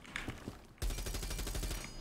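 A 51-round 9 mm gun firing in Rainbow Six Siege: after a brief quieter stretch, a sudden sustained burst of rapid, evenly spaced automatic shots rings out, loud and close.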